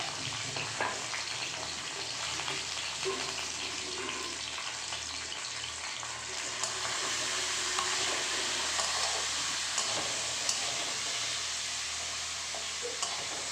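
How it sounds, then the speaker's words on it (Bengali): Potatoes frying in a pan for chire pulao, a continuous low sizzle mixed with occasional scraping and stirring sounds, growing a little fuller partway through. "ছেড়ে দিলাম আলু দিয়ে একটু আলুটাকে ভেজে নিচ্ছি সামান্য করে"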